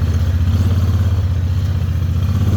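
A Honda Talon side-by-side fitted with low gear reduction, a torque locker and 35-inch tires drives off-road, its engine a loud, close, steady throbbing drone with rhythmic pulsing and light clatter.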